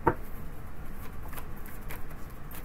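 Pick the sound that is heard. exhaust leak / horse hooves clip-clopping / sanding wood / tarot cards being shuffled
tarot cards being shuffled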